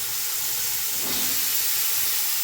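Long-cut potatoes drop into a hot pan and fry with a loud, continuous hiss and sizzle that swells briefly near the middle, no one talking.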